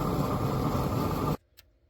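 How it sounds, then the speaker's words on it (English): WD-40 sprayed onto heated, freshly blued steel of a metal-art wall sconce gives a loud, steady hiss that stops abruptly, followed by near silence and a faint click. "I just heated it up and sprayed it with WD-40."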